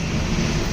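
A gusting storm wind, with rain, sweeps through Dhunibeshi in Dhading district, Nepal, a loud, close, steady roar with heavy buffeting on the microphone during a brief moment with no talk.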